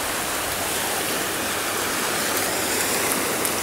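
Steady, dense wash of water noise with no breaks, like surf rolling continuously onto a shore at Port de Sagunt, Spain; no voices.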